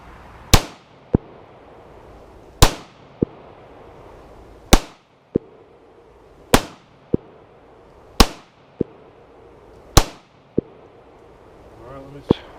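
Kel-Tec PMR-30 pistol fired at a target, six sharp, loud gunshots spaced about two seconds apart, each followed by a brief metallic ping of the hit or casing and a short fading echo.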